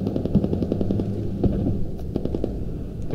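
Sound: gunfire from an enemy vehicle in a video game

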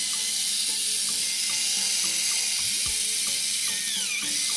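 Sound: Mini 4WD Koala Racer GT toy car motor running noisily

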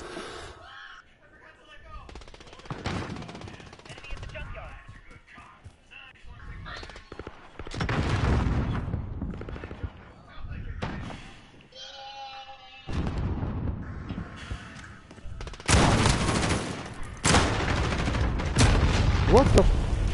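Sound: gunfire shooting at the player in a PS4 video game

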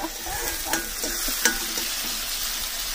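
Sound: frying kanda poha with peanuts

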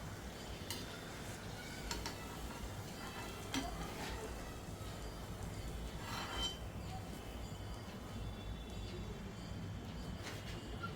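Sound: puri frying in hot oil

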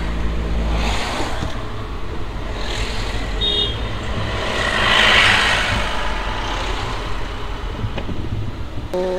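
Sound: car engine idling in heavy road traffic

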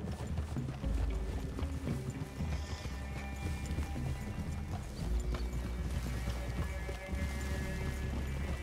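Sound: horses walking, from video game Red Dead Redemption 2

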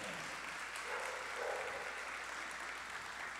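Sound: audience applause

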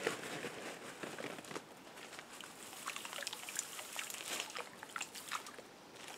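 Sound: salt being poured into pond water

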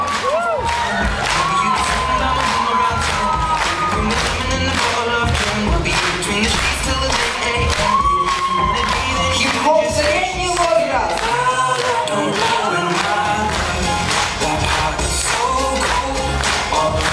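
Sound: audience applause and cheering at a concert

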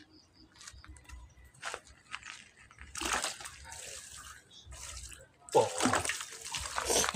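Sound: water sloshing while soaking dried cassava for gaplek

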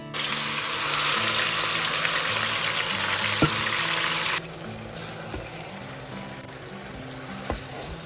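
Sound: chicken poured into hot oil, splattering

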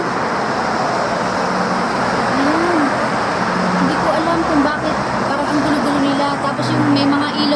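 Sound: busy city street traffic at night, many cars

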